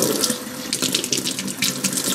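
Water is poured over a clogged 25-micron fuel filter, a close, continuous splashing and gushing stream that pulses slightly in strength, with no one talking.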